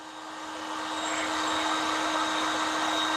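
A hot air gun blows steadily, heating rubber so it can be stretched onto a rim, its broad airy whoosh with a thin whine on top rising slightly in loudness and then holding even, with no one speaking.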